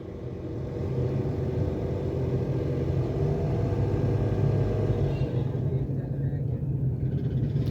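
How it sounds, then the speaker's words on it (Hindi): A car engine idles and its revs rise during a CVT oil pressure calibration, a low steady rumble that swells after the first second and holds evenly at raised speed. "ये अभी गाड़ी का RPM बढ़ गया, आपको आई आवाज़"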